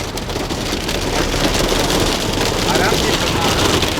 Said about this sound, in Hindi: अरे ओले पड़ने शुरू हो गए, ओले पड़ने शुरू हो गए